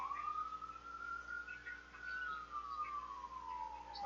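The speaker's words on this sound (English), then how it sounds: "Hey, we have a siren!" A police-style siren wails outside an open window, its pitch rising slowly and then falling in one long, fairly faint sweep with no talking over it.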